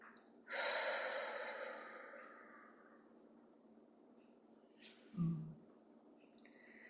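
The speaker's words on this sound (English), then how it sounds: "Big breath in." A deep breath drawn in during a guided meditation, a soft drawn-out inhale that fades, followed by a brief snort-like exhale and faint rustles in a very quiet room.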